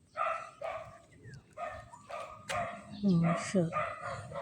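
A dog barks a few times in a village setting, the woofs moderately close and mixed with a rooster-like call, while a person speaks over them outdoors.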